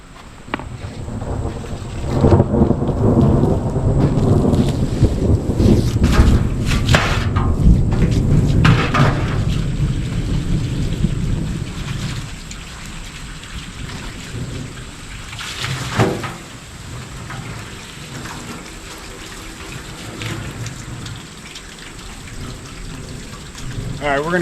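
Heavy rain and a thunderstorm on a farm, a dense loud downpour with rumbling thunder building early, then easing to a softer steady patter with another crack of thunder midway.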